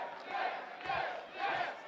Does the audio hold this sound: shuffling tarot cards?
no